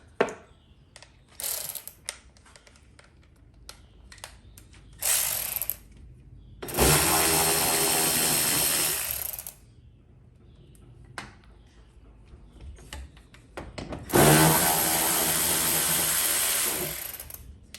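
A ratchet spins out 10mm bolts from the fender liner of a Mercedes-Benz, with bursts of rapid clicking ratcheting separated by quieter handling clatter, close and loud, two long runs standing out.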